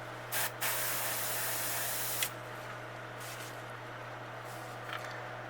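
An airbrush sprays black paint onto a bluegill fish model: a quick short burst, then a long steady hiss, followed by fainter brief puffs over a low constant hum.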